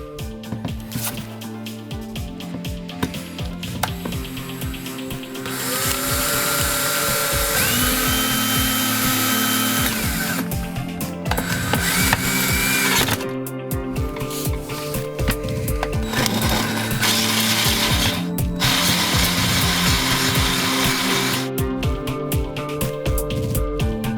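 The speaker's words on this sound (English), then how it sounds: "I made sure to get a hole saw that is just a little bit bigger than the pipe" A hole saw cuts down through the plywood floor of a tiny house while fitting a bathroom sink drain pipe. After a brief start, a loud, steady grinding whine of the drill runs continuously and close up, with no talking.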